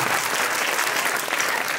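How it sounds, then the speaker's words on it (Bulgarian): An audience at a school open day in Bulgaria breaks into strong, dense applause, a continuous bright patter of many hands clapping throughout. "Силни аплодисменти на най-дейните участници там."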